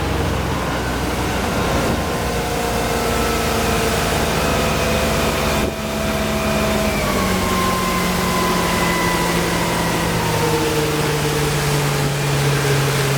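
A 2003 Sea Ray 245 Weekender's MerCruiser engine runs steadily at almost 4,400 RPM, a loud continuous drone with whining tones that shift slowly in pitch, no voices.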